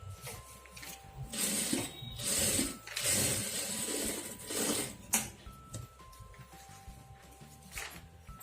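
A sewing machine stitches the shoulder of a blouse, a steady mechanical whir and rattle at moderate level that briefly pauses and restarts, heard close without speech.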